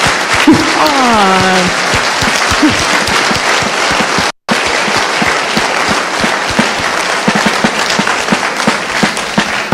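Loud, sustained applause from a large audience fills the space, with a brief voice near the start and a momentary dropout midway.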